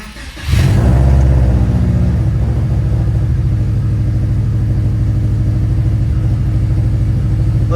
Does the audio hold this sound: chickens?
no